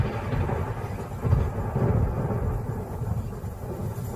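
Low, sustained thunder rolling across open savanna, a deep continuous rumble that swells slightly partway through and carries on steadily without any voices.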